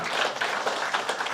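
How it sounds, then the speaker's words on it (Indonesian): Audience applause for the chairman of an advisory board at a Kadin economic discussion, a brief steady burst of clapping from a seated crowd, fairly close and even throughout. "marilah kita tepuk tangan buat Ketua Dewan Penasehat kita"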